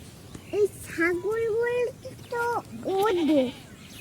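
Goats bleating nearby on a farm, several wavering calls in quick succession with short pauses between them, clear and fairly loud with no talk over them.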